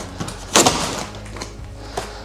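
A shipping box holding a Dragon Eagle is pulled open with one sharp thump and rustle of cardboard, followed by quieter, scattered handling noises.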